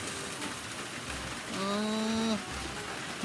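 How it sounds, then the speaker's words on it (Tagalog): Heavy rain falls as a steady dense hiss, with a voice briefly speaking over it midway. "Malakas ng ulan."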